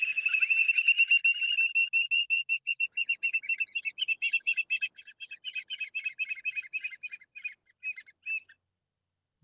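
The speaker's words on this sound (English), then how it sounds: "This should be the sound of an oyster catcher." An oystercatcher's call plays through a microphone, a fast run of shrill, high piping chirps and whistles. It starts strong, then breaks into thinner, stuttering notes that trail off into silence.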